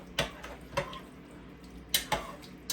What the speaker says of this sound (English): We'll give this a quick stir here.